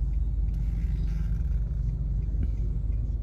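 Road traffic outside SM Roxas in Capiz, a dense low rumble of car engines and tyres that holds steady throughout, close by and heavy, with no one speaking.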